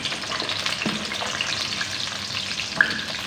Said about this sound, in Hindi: घी हमारा गर्म हो चुका है। अब हम गोभी डालेंगे।